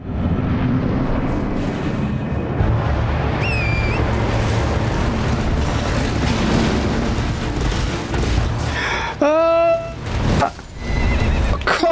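A horse whinnies with a rising, wavering cry in Elden Ring: Shadow of the Erdtree, heard amid loud, constant game-combat noise, with a second strong neigh near the end.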